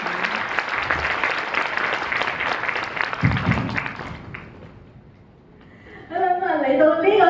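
Wedding guests break into warm applause that runs for several seconds, with a voice audible over it, then the clapping fades as a speaker talks again.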